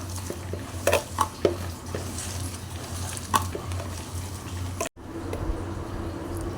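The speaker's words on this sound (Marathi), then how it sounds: "कांदा चांगला चुरून घ्यायचा" Chopped onion is crumbled and mixed by hand in a bowl for onion bhaji, making soft close rustling and squishing with a few sharper taps, steady and fairly quiet.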